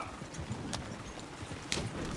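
Horse hooves clip-clop at a walking pace in a PS4 western video game, a steady, fairly close rhythm of soft thuds with light background ambience and no talk.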